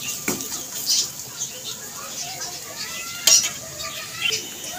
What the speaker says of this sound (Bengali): তো এই তিনটেকে আমি খুব ভালো করে এখন মশলাটাকে কষিয়ে নেব।